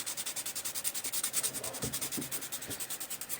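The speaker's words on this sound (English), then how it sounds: "take my slightly less abrasive file this is a much finer grit" A fine-grit nail file smooths a nail extension made with Orly Nail Rescue and a teabag, giving quick, even back-and-forth rasping strokes, close and soft.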